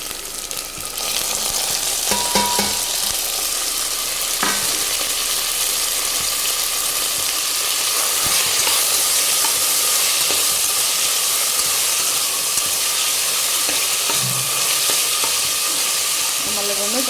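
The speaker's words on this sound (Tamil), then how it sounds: "தக்காளி கொஞ்சம் வதங்கட்டும்" Chopped tomatoes sauté in a pan for tomato rice, a loud continuous hiss of frying running steadily throughout, with occasional scrapes and clinks from stirring.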